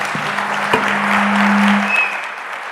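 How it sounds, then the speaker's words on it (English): Audience applause for a commercial space panel at the ASE 2025 space explorers' congress in Brazil: dense, steady clapping from a sizeable crowd that swells slightly mid-way, with a faint sustained tone running beneath. "How about a round of applause for our commercial space panel?"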